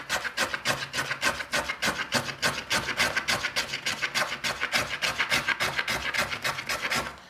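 A hand plane shaves wood from the arched top of an instrument in quick regular strokes, each a close rasping swish repeating in a steady rhythm, with no voices.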